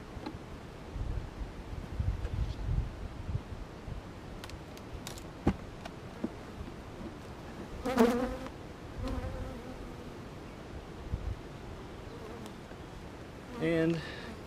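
Honey bees buzz around beehive supers on a farm in scattered, faint passes close to the microphone, with a louder burst near the end over light wind.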